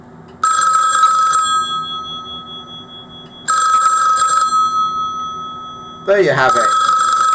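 An old hook-switch telephone rings after being dialled, giving two loud, close bursts of bell ringing separated by a pause. Someone speaks briefly as a third ring begins.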